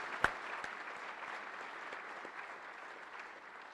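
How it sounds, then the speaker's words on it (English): Applause from an audience at a U.S. Army ceremony honoring the color guard and salute battery, a steady crowd clapping that opens with a sharp clap and holds an even, moderately loud patter throughout. "Let's give them and our salute battery and those who have supported this a great round of applause."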